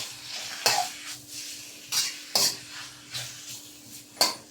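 Chicken pieces in a hot wok with oregano, chili flakes and black pepper are broken up with a utensil, giving several sharp metallic clinks and scrapes over a faint steady sizzle.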